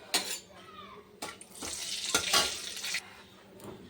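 Whole spices, cinnamon, cloves and cardamom, dropped into hot oil in a pan, with sharp clatters of a utensil and a rising sizzle in bursts, close by.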